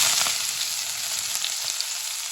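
Ginger, green chilli, curry leaves and onion frying in hot oil for a yellow maize upma, a dense continuous sizzle that stays loud and even throughout, with faint crackles and no talk.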